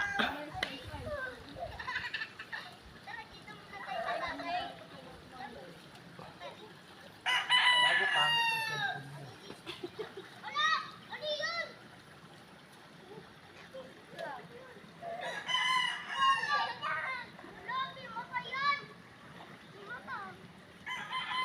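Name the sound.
chickens clucking and rooster crowing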